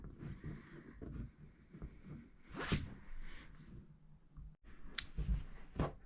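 Thick, durable scissors snip through both legs of a pair of stretch jeans at once, a run of close crunching cuts and clicks with brief pauses between strokes, with no talking.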